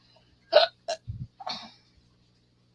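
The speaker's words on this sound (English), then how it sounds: "Dang nabbit! I got the hiccups." A person on a live microphone hiccups a few times in quick succession, with short sharp bursts close to the mic and brief pauses between them. No one speaks.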